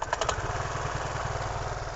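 A 2020 Piaggio Medley 125 scooter engine catches instantly with no long cranking, then settles into a steady, close, rapid idle putter.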